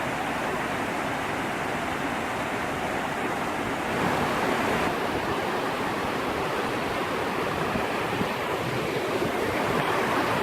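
Walker Camp Prong, a large mountain stream beside a parking lot in Great Smoky Mountains National Park, rushes steadily in a loud, continuous broadband roar of flowing water, close and unbroken throughout.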